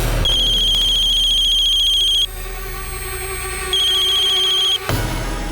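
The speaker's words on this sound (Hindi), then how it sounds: "अननोन नंबर से फोन है सर।" A phone rings loudly and close by with a bright, repeating electronic ringtone. It sounds in two bursts with a short gap between them, then a final brief chirp.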